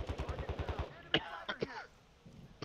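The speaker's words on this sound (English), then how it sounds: "Mortar strike, okay." A mortar strike in Call of Duty lands as two sharp, moderately loud blasts a moment apart, following a short burst of someone talking.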